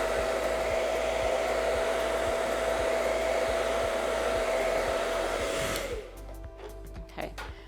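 A handheld hair dryer blows a steady, loud whine over a hair extension applied to short relaxed hair, running evenly for several seconds before it cuts off, followed by a few faint handling clicks.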